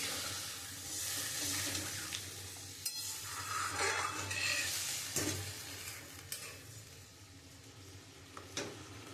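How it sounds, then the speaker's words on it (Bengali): Water poured into a pan of spice-coated pointed gourd being cooked as a yogurt curry, a steady broadband hiss and sizzle running throughout with a few sharper splashes and stirs, moderately close. "এবার আমি পরিমাণ মতন জল দিয়ে দেবো"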